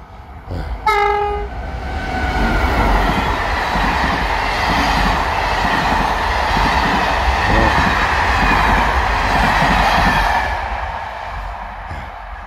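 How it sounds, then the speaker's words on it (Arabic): A train blasts its horn briefly and then rumbles past close by for several seconds, wheels clattering steadily before the noise fades. "ها القطار جاي، ها هو"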